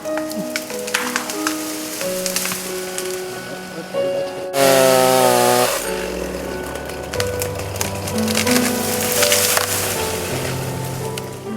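A chainsaw drones and revs up close while a tree is being felled in Ocala National Forest, a loud surging engine whine with a burst of crackling splintering wood partway through.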